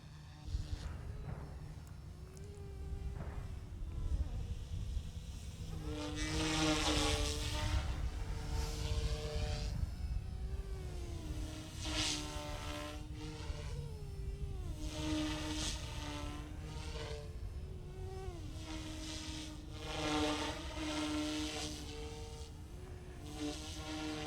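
An OMP M2 EVO MK2 small RC helicopter flies nearby, its rotor giving a continuous whirring drone that rises and falls in pitch as it maneuvers, moderately loud and alone.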